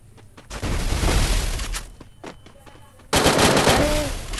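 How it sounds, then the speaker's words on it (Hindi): Rapid automatic gunfire in the battle royale video game Garena Free Fire, sustained bursts of loud, dense shots that stop briefly and then resume hard. "बॉडी पे नहीं लग रहा, मैं इतने सारे गोली चला रही हूँ।"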